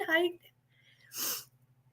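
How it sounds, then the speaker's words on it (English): A person sneezes once during a relaxed Saturday-morning live coffee chat, a short sharp burst standing out after a moment of talk, close and fairly loud against a quiet background hum. "Sorry, I'm sneezing."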